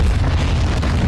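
A VTOL aircraft shot down in Call of Duty MWII explodes in a loud, sustained deep boom with a rumbling low-end roar, close and alone, no voices.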